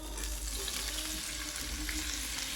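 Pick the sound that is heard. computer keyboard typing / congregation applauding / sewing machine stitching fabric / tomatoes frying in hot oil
tomatoes frying in hot oil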